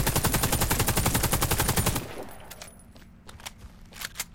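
A Galil AR assault rifle fires a fast, loud full-auto burst in the Warface shooter game, with rapid evenly spaced shots for about two seconds before they stop and leave faint clicks and a quieter tail.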